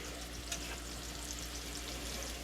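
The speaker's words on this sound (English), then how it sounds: "you can start to hear it sizzle just a little bit" Steady sizzling and crackling of shrimp frying in a pan, continuous and moderately loud, with no talking.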